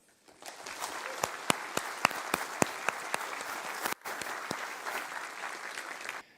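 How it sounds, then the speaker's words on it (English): Conference audience at a security talk applauding the speaker; applause swells in quickly after a quiet start, with sharp nearby claps popping out, a brief dip near the middle, then sustained clapping to the end. "round of applause for Jonathan"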